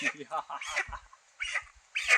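A live chicken of about three kilograms clucks and squawks close by in short bursts with pauses, faint handling noises in between.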